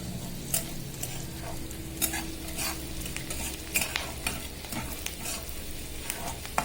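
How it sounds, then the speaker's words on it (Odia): Masala and onions fry in a pan on a roadside cooking stop by truck drivers, a steady sizzle under repeated close scraping strokes of a spoon stirring the mix. "ପକାଇଦିଅ ସେ ମସଲାଟା ପକାଇଦିଅ ଗୋଳେଇକି।"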